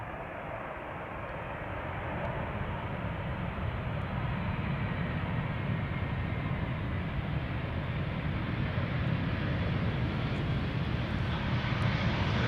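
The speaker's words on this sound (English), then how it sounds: "Subdued KLM style landing." Steady, loud broadband roar of a KLM airliner landing and rolling out with engines at idle reverse, a continuous rushing jet-engine wash that holds level and builds slightly toward the end, with no talk over it.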